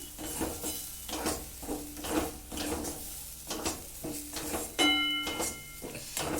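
A pea and rice flour mixture stirred in a pan, rhythmic scraping strokes of a spoon with soft sizzling between them and an occasional metallic clink, close and fairly quiet, no voices.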